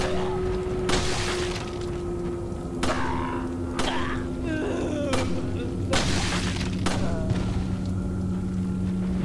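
Heavy gunshots in Resident Evil 4, several loud booming blasts spaced a second or two apart over steady game ambience, with a voice speaking between them.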